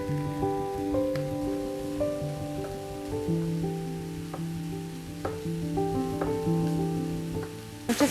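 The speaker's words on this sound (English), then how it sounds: "I'm just going to fry the vegetables in a little bit of oil in this Dutch oven" Vegetables frying in a little oil in a Dutch oven, a soft steady sizzle with occasional stirring clicks, partly covered by gentle background music.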